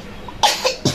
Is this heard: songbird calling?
no